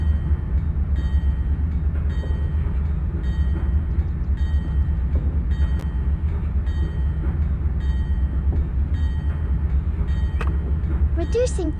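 A virtual GE-9 locomotive in a train simulator rolls at about 66 mph on a downgrade while throttling back, a heavy, steady diesel rumble with a faint rhythmic clicking throughout and a brief higher sound near the end.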